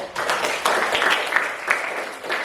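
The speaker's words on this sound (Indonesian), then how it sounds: "tepuk tangan untuk Eva dulu" Classmates in a junior high school classroom give a student a brief round of applause, a close, uneven patter of hand claps that swells and dips over a couple of seconds.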